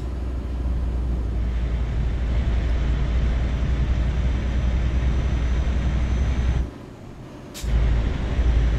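A steady truck engine drone from an Iveco Hi-Way hauling a Kögel trailer in Euro Truck Simulator 2, broken near the end by a sharp, short burst of air-brake hiss.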